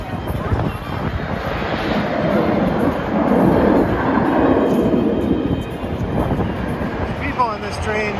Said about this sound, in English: On this train, we're gonna give it a try ourselves.